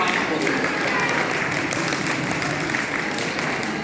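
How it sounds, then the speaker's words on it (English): Audience applause at an Islamic Center of Naperville community gathering, honoring staff and youth volunteers: a full, steady round of clapping from the crowd, loud and continuous throughout. "So just a quick round of applause for them."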